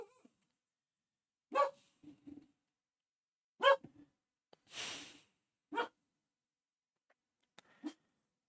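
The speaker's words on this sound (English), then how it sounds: "the dog says hello" A dog gives several short barks spaced a second or two apart, close and fairly loud, with a snort or sniff between them in an otherwise quiet room.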